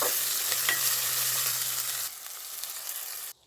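A spoon stirs flattened rice into a sizzling Telugu-style tempering in a hot pan, the frying hiss loud and steady with a low hum, then dropping quieter partway before stopping abruptly near the end.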